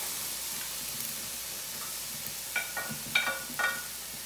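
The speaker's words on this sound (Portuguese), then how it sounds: "Calabresa é rápido. Ela frita rapidinho." Calabresa sausage and meat fry on a hot plow-disc griddle over a wood fire, giving a soft steady sizzle with a few brief louder crackles and stirring scrapes toward the end.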